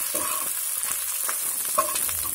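Drumstick leaves frying in oil, being cooked for a fish gravy, make a continuous close sizzle with soft stirring crackles throughout and no talk.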